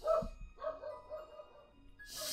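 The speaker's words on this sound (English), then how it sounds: "Sorry, dog barking." A dog barks a few short times nearby, quiet sharp yelps spread across a couple of seconds with a brief hiss at the end.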